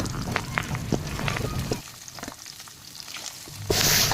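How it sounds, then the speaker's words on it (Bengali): Pieces of katla fish fry in a small amount of oil with a crackling sizzle and scattered pops. The frying quiets for a moment, then a louder hiss of sizzling bursts up at the end. "এবার মাছগুলো ভালো করে ভাজা হয়ে গেছে"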